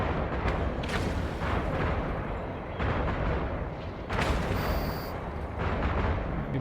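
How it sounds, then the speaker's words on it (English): A ship blowing up in Eve Online, with heavy booming blasts and rumbling detonations. A thick roar swells and fades in several waves, and a bright crackling burst comes near the end. "We blew up that guard"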